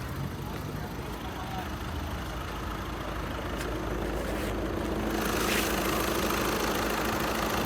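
A 2012 Volkswagen Golf VI engine idles evenly, a steady low hum running throughout, with someone speaking over it.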